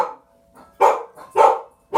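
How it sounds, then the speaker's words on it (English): Several dogs barking excitedly in loud, repeated bursts close by, with short gaps between barks. "And my dogs go wild."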